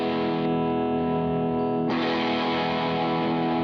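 A sustained, gritty overdriven guitar chord through an MXR CSP039 Duke of Tone overdrive pedal, set at noon, rings out, then a fresh strum brightens the tone before it keeps sustaining without fading.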